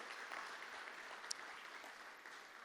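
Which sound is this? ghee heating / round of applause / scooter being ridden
round of applause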